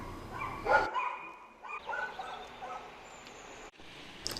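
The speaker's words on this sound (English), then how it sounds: "barking at life happening without them" Several dogs bark from Athens rooftops and balconies, with sharp bursts near the start and scattered yaps afterward, heard at a distance across the city with no talk.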